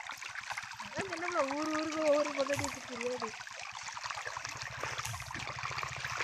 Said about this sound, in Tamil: தண்ணி எப்படி அடிச்சுக்கிட்டு வருதுன்னு பாருங்க ஃப்ரெண்ட். ரொம்ப தண்ணி வருது ஃப்ரெண்ட்.